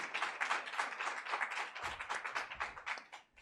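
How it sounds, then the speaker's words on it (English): A summit audience claps to welcome someone speaker onto the stage, producing a moderate, even patter of many hands that fades near the end. "the audience, please welcome her with applause."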